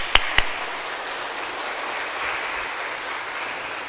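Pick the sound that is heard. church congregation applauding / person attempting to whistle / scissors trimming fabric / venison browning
church congregation applauding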